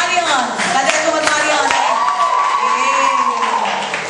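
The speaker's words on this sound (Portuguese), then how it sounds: "Uma salva de palmas para o nosso Deus" A church congregation at a crystal wedding anniversary celebration claps and cheers for God, with loud overlapping shouts and whoops over dense applause from a close, lively crowd.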